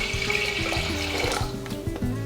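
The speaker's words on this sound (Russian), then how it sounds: "В кастрюлю наливаю воду," Tap water running into a kitchen pot, about one and a half litres being filled for an eggplant recipe, a steady close splashing and gurgling stream that carries on without a break.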